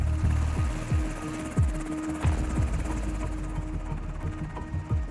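Marine Corps presidential helicopter, Marine One, flying nearby with loud rhythmic rotor thumps and a steady turbine whine, blade slaps pulsing evenly throughout.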